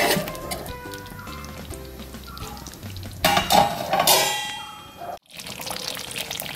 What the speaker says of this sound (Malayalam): നമുക്ക് മൂടി വയ്ക്കാം.